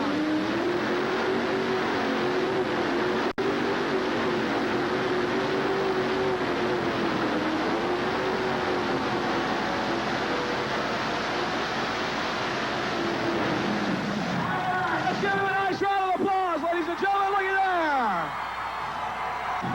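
A loud tractor-pulling engine drones steadily under full throttle for a long stretch at a pulling competition in Louisville, Kentucky, then sputters and bogs in rapid bursts before winding down; an announcer talks over it.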